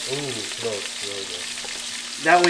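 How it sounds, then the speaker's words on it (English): Onions and garlic brown in a frying pan, a soft continuous sizzle heard beneath intermittent speech. "So we brown the onions first because they take a little longer to cook than the garlic."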